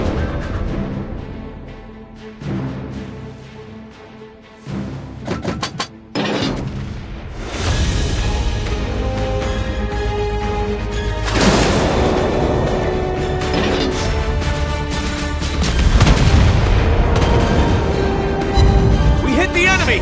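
Naval guns fire and shells hit an enemy ship in the World of Warships Blitz video game on the Taranto map: heavy booms and mechanical clanks sound over a dense, continuous layer of in-game noise.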